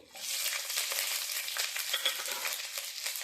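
Cumin seeds with green and dried chilies hitting hot oil mixed with ghee, an immediate loud burst of crackling sizzle that continues steadily, close up and alone without talk.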